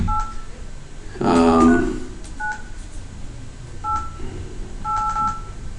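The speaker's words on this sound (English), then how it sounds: "you should be able to dial the numbers appropriately" Touch-tone keypad beeps from dialing out on an office phone system: a few separate two-tone DTMF presses spaced out over several seconds, with a louder burst of noise near the start and a quiet room hum underneath.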